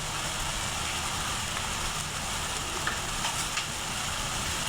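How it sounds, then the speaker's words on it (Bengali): Fish masala with coriander, cumin and salt sautés in a pan, making a steady, close sizzle with a few faint stirring clicks and no voices. "ভালোভাবে এখন মশলাটাকে কষিয়ে নেব"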